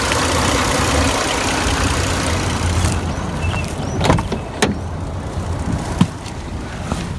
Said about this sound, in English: Let's take a listen to the engine.